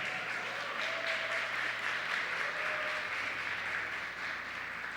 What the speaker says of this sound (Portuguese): eu peço uma salva de palmas, por favor